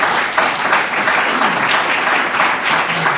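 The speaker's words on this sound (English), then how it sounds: "One last round of applause." Lively audience applause for presenters at a conference on SDMX standard releases, many hands clapping in a dense, continuous patter at fairly close range.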